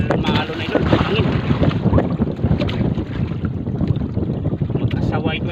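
Strong wind roars steadily over open water aboard a small fishing boat out squid fishing, a loud continuous buffeting rush with microphone wind noise throughout and someone talking intermittently over it.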